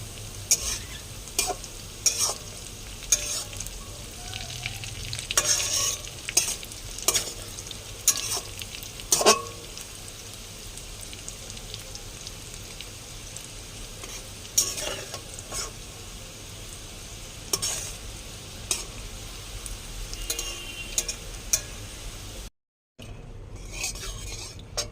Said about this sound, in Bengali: এগুলো ভাজা ভাজা হয়ে এসছে, এবারে তুলবো এগুলো।